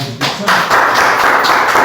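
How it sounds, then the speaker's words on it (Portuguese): A burst of clapping from a church congregation swells and holds loud and dense, with a voice briefly heard at the start. "Vamos dar uma salva de palmas"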